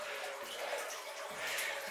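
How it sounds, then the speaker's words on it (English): Water from a natural spring trickles out of the mountainside in the Smoky Mountains, a soft steady splashing and burbling heard close by and fairly quiet. "You hear the water trickling."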